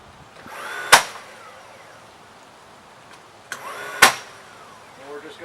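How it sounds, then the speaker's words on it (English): A trim nail gun drives galvanized nails into wood trim on a screen porch post: two loud, sharp close-up shots about three seconds apart, each with a short airy tail, and faint softer noises between them. "we just take a trim gun with galvanized nails"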